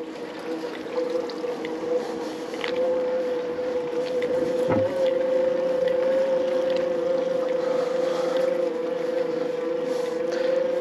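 A steady, droning electric bike motor hum with a constant whine, a small low-power motor on a DYU T1 climbing a steep hill at about 8 km/h, close and continuous, with faint wind rushing beneath it.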